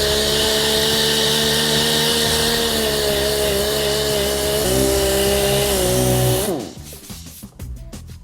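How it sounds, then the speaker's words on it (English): A machine sander rubbing down car paint runs in a loud, steady whir with a slight shift in pitch partway through, then switches off and spins down into quiet handling noises. "Right, I've rubbed that down with the machine, I've kept it nice and flat"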